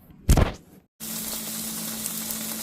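Bacon and a slice of bologna fry in a pan, beginning with a brief loud clatter, then a short silence, then a steady sizzling hiss that holds to the end, with no speech.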